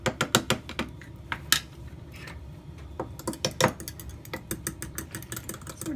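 A spoon clinks and scrapes against a pot while stirring cheesy potato soup, giving a quick run of close metallic taps and clatters, denser at the start and again toward the end, with no talking.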